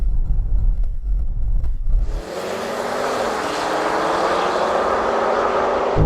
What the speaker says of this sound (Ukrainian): розженемося до 30 миль на годину, потім я дам сигнал і подивимося, як швидко машини пройдуть чверть милі